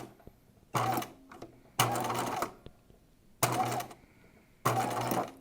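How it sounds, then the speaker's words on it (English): A sewing machine runs a slow straight stitch on a gown in four short, loud, evenly spaced bursts, each under a second long, separated by near silence. "we're going to want to make sure that we sew this on a straight stitch"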